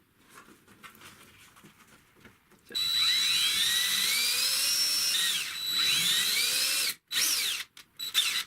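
A power drill whines loudly and steadily, pitch shifting as it bites, with short stops and restarts near the end after a quieter start.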